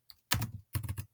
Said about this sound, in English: straight away I'm going to type his address, Xavier at school.org.